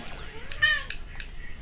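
A cat gives a single short, wavering meow, fairly close, over a busy bed of faint clicks and background noise.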